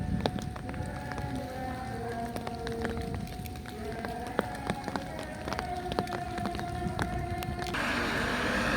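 Heavy rain hissing steadily during river normalization work on Kali Kapuk, a dense continuous wash with scattered splashes and knocks that thickens toward the end, with faint voices in the background.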